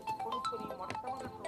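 A mobile phone ringtone chimes in short repeating melodic notes at moderate volume indoors, with no talk over it.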